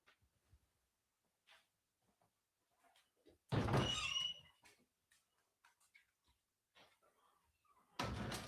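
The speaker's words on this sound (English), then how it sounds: "I'm going to let my dog in because he's scratching on the door." A house door opens to let a dog in, with a loud rattling thud, a quieter stretch of faint shuffles, then another burst of door noise near the end.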